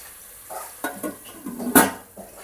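A metal lid clanks onto a pot of cooking tomatoes for chutney, giving a few close, sharp knocks and one bright clatter among soft stirring and sizzling.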